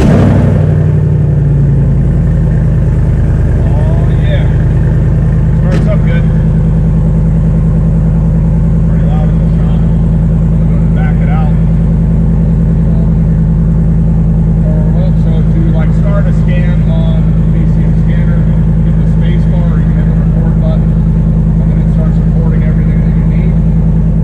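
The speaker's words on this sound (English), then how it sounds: "I'm going to go ahead and start the car, start recording, let the car warm up" A car with a Gen V L83 engine starts up and settles into a steady, loud warm-up idle, heard close with faint clicks and handling noises over the drone.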